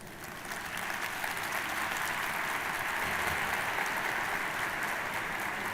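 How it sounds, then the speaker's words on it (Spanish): Audience applause at an international human resources congress: a steady, dense wash of many hands clapping that builds quickly and holds evenly, filling the room with no talk over it. "Otro aplauso, por favor."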